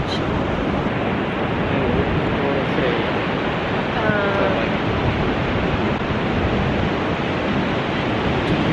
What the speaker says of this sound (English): It's a nice beach.